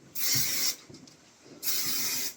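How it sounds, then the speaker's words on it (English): Aussie Mega hairspray aerosol sprayed onto hair in two loud, close hissing bursts, each about half a second long, separated by a brief pause. "I should probably hairspray. Aussie Mega Hairspray."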